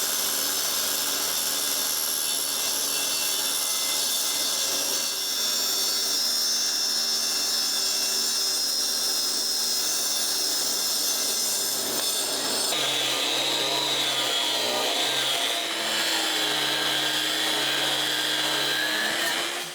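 A stainless steel wire wheel on a power tool grinds an aluminum snowmobile tilting trailer part, a loud continuous whirring roar with a shift in pitch partway through, no talking.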